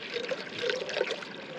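Water pours steadily into a cooking pot at a solo backpacking campsite in a forest, a soft continuous trickle heard close and alone.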